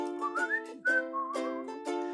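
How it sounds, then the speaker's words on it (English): A lone person whistles a simple, bright tune close by, in short, clear melodic phrases with brief gaps between them. "Or maybe for whistling."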